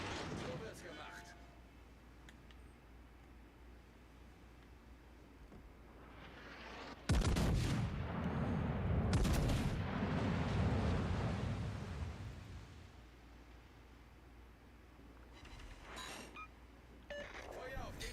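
Ship guns boom in a World of Warships Legends naval battle, a heavy salvo erupting around the midpoint with a rumbling tail, set against low ambient game sound and a faint voice.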